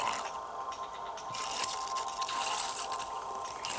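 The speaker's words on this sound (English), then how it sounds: "I'm going to pour this in here till I get to 4 ounces." Witch hazel pours into a bottle as a steady, close liquid trickle with slight splashing that swells midway and continues to the end, with no talk over it.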